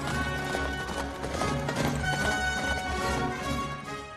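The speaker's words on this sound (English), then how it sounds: "Those majestic horses galloping into the sunset, they belonged to a real king" Horses gallop in a scene from Indiana Jones and the Last Crusade (1989); the majestic animals were lent by the King of Jordan. A steady, dense clip-clop of many hooves runs throughout beneath sustained music.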